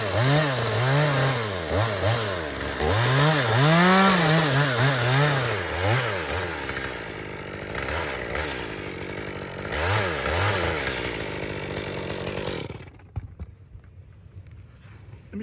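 Chainsaw cutting into a wood trunk lying on a roof edge, the engine revving and bogging in rising and falling sweeps for about twelve seconds before cutting off into quiet.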